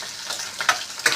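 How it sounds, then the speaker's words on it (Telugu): Vegetable pieces frying in hot oil in a bandi until light brown: a steady crackling sizzle, with two brighter stirring bursts near the end. "తరువాత ఒక బాండీలో ఆయిల్ హీట్ అయిన తరువాత ఆ ముక్కలను వేసి బాగా వేయించండి."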